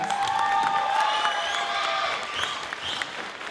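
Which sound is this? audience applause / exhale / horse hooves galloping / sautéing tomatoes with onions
audience applause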